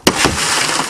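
Car window glass on a 1990 Toyota Camry smashed in one loud, close impact, followed by a brief bright crunch and scattering shards.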